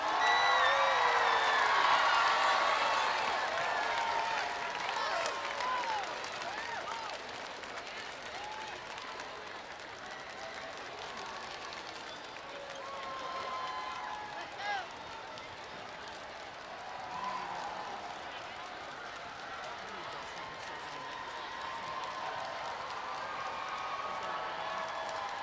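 A crowd applauds at a float and banner parade, clapping loudly at first, then settling into softer, steady clapping with scattered cheers. A voice speaks over a public address system.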